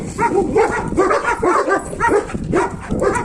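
A black German shepherd on a leash barks and yips repeatedly in an uneven rhythm, close and loud, with some whining between the barks.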